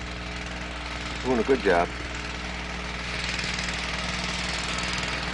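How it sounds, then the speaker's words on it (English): A lawn mower engine drones steadily while mowing across a field, heard at a moderate distance and growing slightly louder, with a brief spoken remark over it. "He's mowing across the field here."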